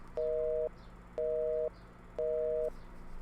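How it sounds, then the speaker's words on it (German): Telephone busy signal from the point-and-click adventure game Thimbleweed Park: three loud, even tone bursts about half a second each, separated by short silent gaps, steady and alone. "All circuits are busy. Please try again later."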